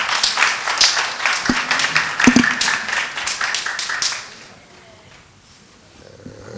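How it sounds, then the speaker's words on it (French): An audience at a French spelling-championship TV show claps loudly for about four seconds, a dense burst of applause that quickly dies away into quiet room tone. "On l'applaudit très fort."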